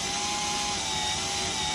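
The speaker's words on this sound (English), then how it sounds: "So when you drill through heavy material like this, start off with the slowest speed" A power drill bores through heavy material at slow speed while installing a side mirror on a Kubota BX cab, giving a steady, dense whine with a constant pitch, close and continuous.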